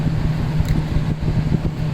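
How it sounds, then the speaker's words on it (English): A room fan hums steadily and close, a constant low drone with a slight whooshing flutter filling the background with no other sounds. "I apologize for the fan if you guys could hear that."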